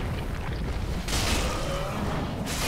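Explosion in the Dark Souls 3 video game, a broad rumbling burst that rises about a second in and carries through to the end of the clip over steady low game ambience.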